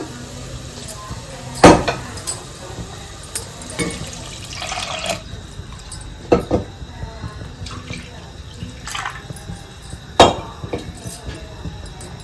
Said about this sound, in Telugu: ఈ వాటర్ ఈ గిన్నెతో రెండు గిన్నెలు వాటర్ పోస్తాను